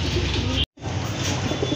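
Domestic pigeons kept for sale cooing close by, a low soft repeated coo that breaks off briefly and then resumes.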